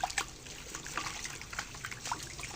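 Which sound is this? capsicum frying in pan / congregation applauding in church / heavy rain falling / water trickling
water trickling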